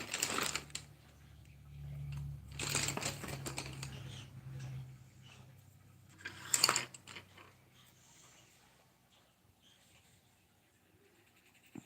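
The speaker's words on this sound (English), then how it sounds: "Now, just going to send my pencils rolling across the table." Colored pencils roll and clatter across a table in a few short, irregular bursts of clicking and rattling, with quiet gaps between them.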